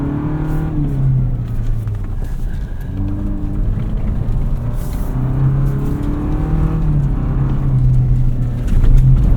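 A 2025 Toyota 4Runner TRD Pro engine works in 4 low while climbing a steep off-road slope, giving a steady close drone that swells and eases in short surges of throttle.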